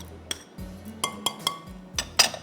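A spoon clinks against a bowl while mixing sauces, including chili garlic sauce, in a kitchen, giving a few sharp metallic taps with low scraping between them, close up and without speech.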